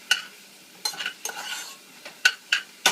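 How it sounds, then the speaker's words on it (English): Mushrooms cook in oil in a pan alongside melting cheese, with a soft background sizzle broken by several sharp, close scrapes and clinks of a utensil stirring against the pan. "You can hear my mushrooms start to simmer a little bit with the oil."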